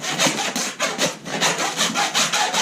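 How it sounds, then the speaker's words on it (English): A hacksaw cuts through deer neck bone in loud, close back-and-forth strokes, a raspy rhythmic sawing of about eight pulls with brief pauses between them and no talking. "Now you can just take your hacksaw, cut this off"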